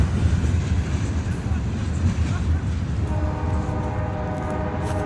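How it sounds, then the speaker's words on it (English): The Paducah and Louisville locomotive rolls past with a steady loud rumble of wheels and cars, and a sustained multi-tone horn joins partway through, close by. "There's another train coming."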